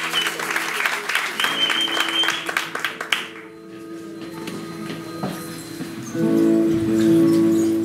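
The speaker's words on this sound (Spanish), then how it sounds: "Então vamos bater uma salva de palmas" An audience gives a round of applause at a Brazilian indigenous Puyanawa cultural gathering; brisk clapping dies out after about three seconds, leaving a quiet room with faint tones and a sustained musical note rising near the end.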